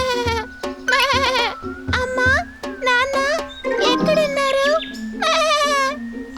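A lost lamb bleats in a series of quavering, high-pitched cries, some drawn out and wavering, sounding close and loud over a steady low background hum.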